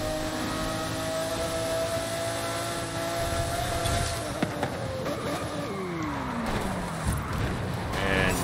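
A 1997 Lamborghini Diablo SV engine in Forza Horizon 5, roaring steadily at high speed along a town street with rising and falling pitch as it shifts, loud and continuous throughout.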